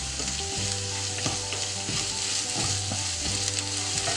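Ginger garlic paste for paneer butter masala sizzles steadily in a pan over a medium flame, with a spoon scraping and stirring at a regular pace, close and continuous with no voices.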